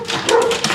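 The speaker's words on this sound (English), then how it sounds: "There's the dogs." A dog gives a short burst of yips and whimpering barks, fairly loud and close, lasting under a second with no talk.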